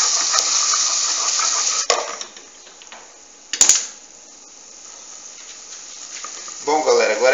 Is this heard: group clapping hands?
no